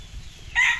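A seven-year-old red gamefarm broodcock rooster sounds off nearby, a short bright burst starting about halfway through, loud and alone with no talking.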